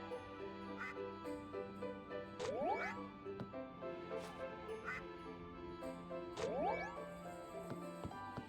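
Video game ducks give repeated short, nasal quacks over a steady musical background loop, with squeaky sliding chirps recurring at regular intervals.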